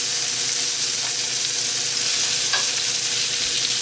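Scallops and onion fry in a pan with a steady, loud broadband sizzle and occasional stirring scrapes, close up and without talk.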